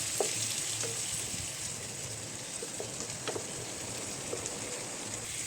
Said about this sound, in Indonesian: Nah kalau udah ditumis sampai harum.